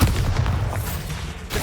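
Bombarda spell blast in the video game Hogwarts Legacy: a heavy booming explosion up front, followed by a rumbling decay and a second thump near the end.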